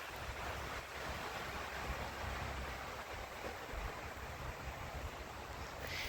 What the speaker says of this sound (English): man, is the wind blowing today